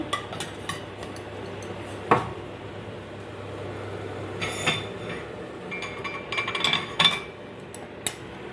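Tea cups and plates clink and rattle as they are set out in a home kitchen. The clinks are sparse and bright over a steady low hum, with a louder cluster near the end.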